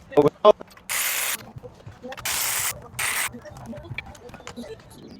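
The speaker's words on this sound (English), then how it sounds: "Now you want to start unbolting the cylinder head." A ratchet loosens cylinder head bolts on a Dodge Challenger Scat Pack engine, heard as three quick, close bursts of clicking with faint handling noises and short pauses between them.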